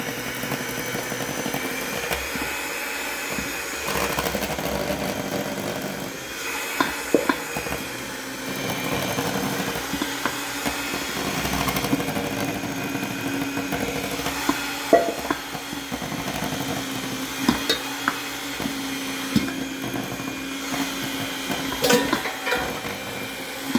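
Electric mixer running steadily for about 24 seconds, blending maple walnut cake batter as milk is added, with a continuous whir, occasional clicks and knocks against the bowl, and no talking.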